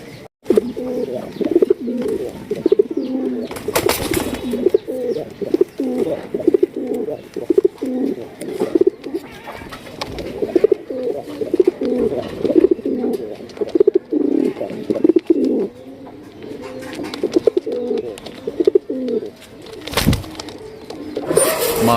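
Raj Golla pigeons cooing continuously at close range, a throaty, rolling murmur that rises and falls throughout, with a few brief louder bumps and no speech.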